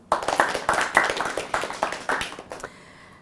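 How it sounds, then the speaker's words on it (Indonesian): Audience at an Islamic religious talk show clapping after a preacher asks for applause: a short burst of distinct, fairly sparse claps that thins out and stops within a few seconds. "Tepuk tangan dong."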